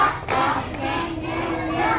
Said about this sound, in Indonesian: Tepuk satu, prok ngedok.